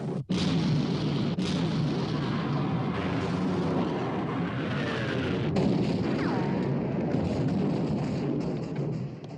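Naval artillery in a film sea battle against the Bismarck: heavy gun blasts boom and roll into a continuous loud rumble, with sharp reports at the start and midway and sustained thunderous noise throughout.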